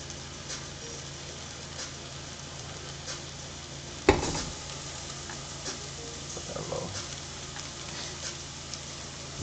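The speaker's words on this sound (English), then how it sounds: "here's some more sizzle for you guys." A breakfast country skillet frying in a pan, a soft steady sizzle with a sharp clatter midway and some light stirring scrapes after, no voices.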